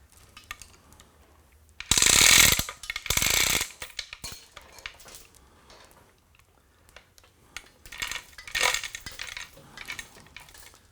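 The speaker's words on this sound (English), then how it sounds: "we got to move our gantry that way a little bit" Gantry and carriage of a tinning rig shoved into position, giving a loud two-part metallic ratcheting clatter early on, then quieter scattered clanks and scrapes with a brief rattle near the end.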